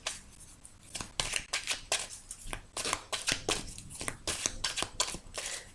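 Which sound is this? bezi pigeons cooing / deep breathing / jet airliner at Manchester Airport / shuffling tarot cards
shuffling tarot cards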